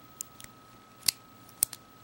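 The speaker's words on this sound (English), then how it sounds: "scissors," Small scissors on a multitool snip a few times in quick, sharp clicks, close and crisp against near silence, with two louder cuts near the end.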